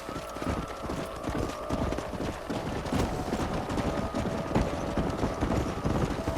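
A herd of horses in the video game Red Dead Redemption, hooves clip-clopping in a dense, overlapping patter that runs steadily throughout at a moderate, close level.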